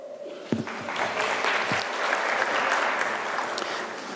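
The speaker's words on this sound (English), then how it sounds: "Give her a round of applause." Audience at a law career fair giving a round of applause, clapping that swells and holds steady, with a few louder claps and thumps near the start.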